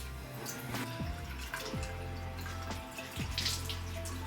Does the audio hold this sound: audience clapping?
no